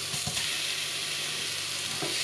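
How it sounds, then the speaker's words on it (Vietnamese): Pork belly and garlic fry in a pan, giving a constant close sizzle, with a few soft scraping stir strokes near the start and again toward the end. "Sau khi đảo nhẹ tay, mình cho toàn bộ thịt vô lại"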